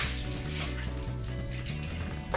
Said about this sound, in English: So we rinse it thoroughly with water.